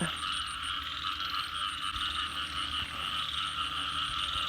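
Frogs croak steadily at night in a Thai rice-field setting during a pre-dawn frog hunt, a dense pulsing chorus with insects trilling above it, moderately loud and continuous, with no talking.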